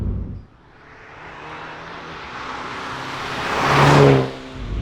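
Mini GP3 hot hatch accelerating hard, engine note building and rising in pitch as it surges closer, peaking loudly near the end before easing off, with no voices.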